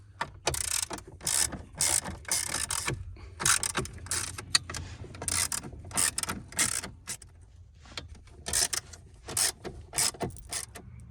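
Bolts are ratcheted out of the steering column of a Ford Falcon XR6 Aggressor, with repeated ratchet clicks and metallic clatter in bursts as the column is lowered, close and fairly loud, with no talking.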